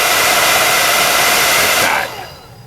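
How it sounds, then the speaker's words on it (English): A hair dryer blows steadily on the rust-wash paint of a model car chassis, a loud close whooshing roar that cuts off sharply near the end, leaving a fading motor wind-down. "So then take the hair dryer and lock that in"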